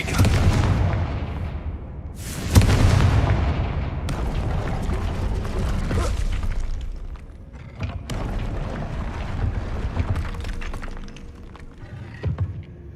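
Confringo blasting spell explosions in Hogwarts Legacy, a series of loud booming bursts with rumbling decay, several impacts spread across the stretch.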